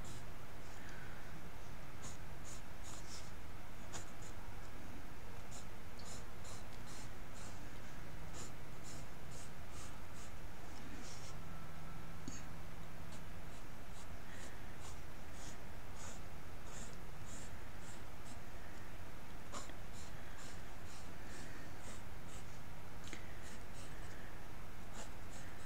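Quiet, rhythmic scratching of a drawing tool moving across paper in a series of short strokes, close by, with no talking.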